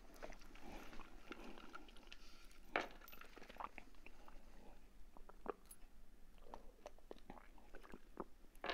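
A hard chocolate and cream snack being chewed close up, soft crunching bites and wet chewing at a low volume with occasional louder snaps, no talking.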